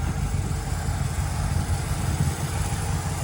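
A restored 1950 Oldsmobile 88 with its 303 Rocket V8 and three-speed manual runs steadily nearby, a low, even rumble holding without pause and no voices over it.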